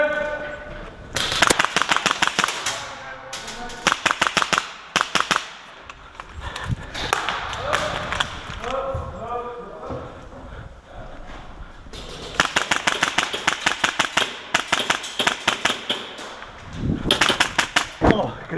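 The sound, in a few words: airsoft guns firing during an airsoft game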